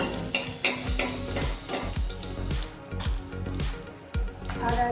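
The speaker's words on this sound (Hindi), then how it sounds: "और इसको थोड़ा सा लाल होने तक हम भूनते रहेंगे।" Medium-sized onions frying in a pan while a utensil stirs and scrapes them, giving a run of close scraping and clinking strokes over a soft background sizzle.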